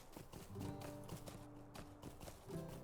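Horse hooves clip-clopping at a steady rhythmic gait in the LOTRO video game, close and clear over a soft musical background.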